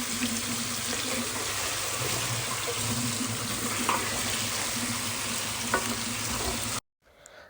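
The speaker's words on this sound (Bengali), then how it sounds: "মাছটাকে প্রথমে তো ভালো করে ভেজে নিতেছি হলুদ লবণ মাখিয়ে" Rohu fish pieces coated in turmeric and salt frying in a pan, a loud, steady dense sizzle that runs continuously and then cuts off abruptly near the end.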